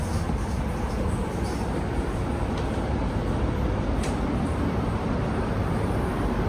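A Sydney suburban Oscar train departing Wolli Creek station, a loud, steady rolling rumble of the train close by, constant throughout with faint high whine above.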